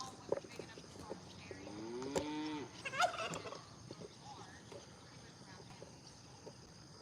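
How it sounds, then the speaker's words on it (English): Highland cattle low on a farm during morning feeding, a few drawn-out moos and grunts mid-clip over steady outdoor background noise, fairly close and moderately loud. "We did some Highland cow feeding this morning"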